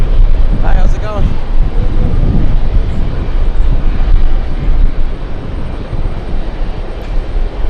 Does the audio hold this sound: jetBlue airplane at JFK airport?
yes